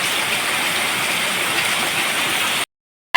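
Steady rain pours down in an even, dense wash of noise close by, continuing without a break before cutting off abruptly near the end.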